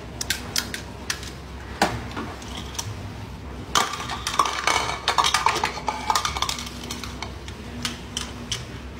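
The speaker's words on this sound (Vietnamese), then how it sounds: "ngồi rửa chén đồ" Dishes being washed by hand, with scattered clinks and clatters of crockery and utensils, sparse at first then busier, close by over faint background noise.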